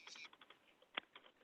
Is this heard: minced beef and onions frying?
no